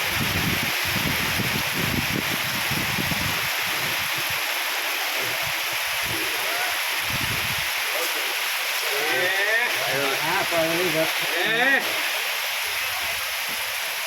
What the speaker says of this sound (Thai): โอ้ลมแรงด้วย